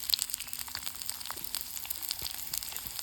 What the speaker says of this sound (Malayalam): ആ ഉള്ളി നമുക്ക് അതിലേക്ക് ഇട്ട് കൊടുക്കാം